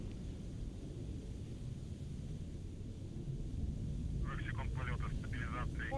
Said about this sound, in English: the Soyuz delivering 102 tons of thrust from its four strapped-on boosters and single-core engine